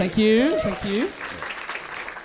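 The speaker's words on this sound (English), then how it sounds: "Round of applause for Dave's fun story." Applause on a comedy podcast, a soft wash of clapping that rises after a voice speaks briefly and carries on fairly faintly to the end.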